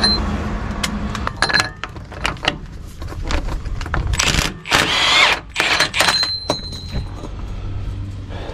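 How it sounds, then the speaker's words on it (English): Tools work at the spindle nut of a GMC rear wheel during a wheel bearing replacement, with metallic clinks, scraping and short bursts of a powered tool whirring, all close and fairly loud. "Now you want your spindle nut tool here."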